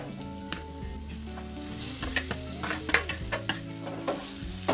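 A coarse mixed dal mixture sizzles as it goes into a hot pan for paratha filling, with the hiss rising alongside scraping and clinking of a spatula stirring against the pan.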